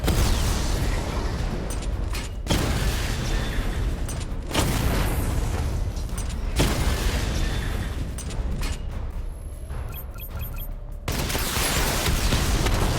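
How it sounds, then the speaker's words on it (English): Missile barrage fire in the video game Batman: Arkham Knight, a sustained loud roar of rapid explosive bursts and booms that breaks off abruptly several times before resuming. "Missile barrage level 2 ready."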